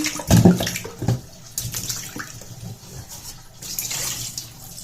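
Chicken pieces for chicken fry being washed by hand in water, with splashing and sloshing bursts, strongest at the start and returning in softer swishes throughout.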